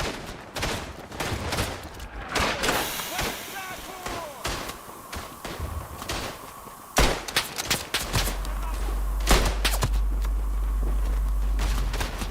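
Gunfire in Tannenberg, a multiplayer shooter set on the Eastern Front, comes as sharp cracking shots and scattered bursts, some near and some distant, with a player talking over much of the action.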